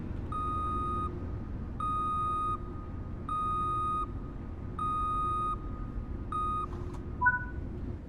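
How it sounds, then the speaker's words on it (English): A Long Island Rail Road train in Train Sim World gives a steady series of five evenly spaced, sustained electronic beeps, like a reversing truck alarm, over a low engine hum, then a short two-tone chime. "it sounds like a European reversing truck"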